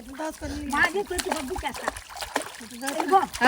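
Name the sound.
child kicking and splashing water while learning to swim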